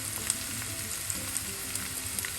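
Bitter gourd slices frying in hot oil in a pan give a steady, close sizzle with small pops scattered throughout.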